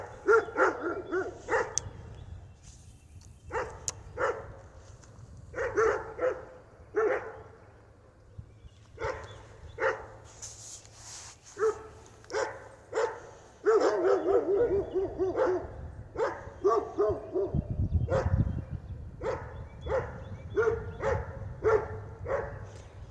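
Dogs bark near a drainage ditch during bait fishing, the outdoor scene full of repeated sharp barks and yips in irregular bursts, some close and loud, with a low steady background hum and no talking.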